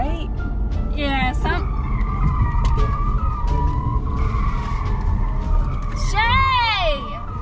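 A car cornering hard with a stiff feel, its tires screeching in long wailing skids near the start and again near the end, over a steady engine roar with people talking throughout.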